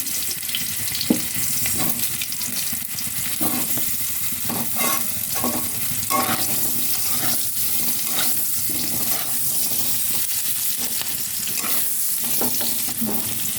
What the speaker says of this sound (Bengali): আর একটু তেল দিয়ে আমি আলুগুলো ভেজে নেব আলুগুলো দিয়ে দিচ্ছি